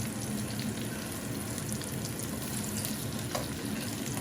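Onions and fish frying in a pan give a steady, even sizzle that holds close and moderately loud for a few seconds, with light stirring and no talk.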